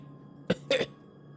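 A person coughs twice in quick succession, a short sharp bark followed by a slightly longer rough cough, close and clear over a faint room hum.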